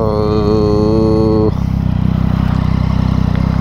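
Motorcycle engine running during a ride with water in the fuel tank, a loud, close, rough engine drone with a clear tonal whine at first that drops away, leaving a pulsing, uneven idle-like throb.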